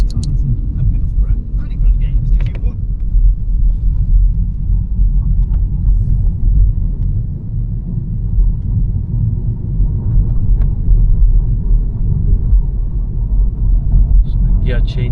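Steady low engine rumble and road noise inside a used Audi A3 on a test drive, continuous throughout, with someone talking over it.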